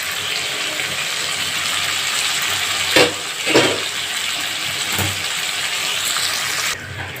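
Desi chicken curry meat sautés in a pan with a steady, close sizzling hiss throughout, broken by a few soft clinks and scrapes of stirring.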